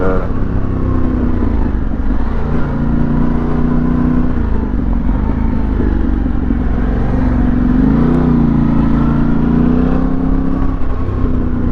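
A Yamaha Tenere 700 World Raid motorcycle filters through crowded rush-hour traffic on the A13 highway between Rotterdam and The Hague, its engine droning loud and close throughout, with pitch rising and falling as it speeds up and slows.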